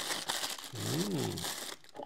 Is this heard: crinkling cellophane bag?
yes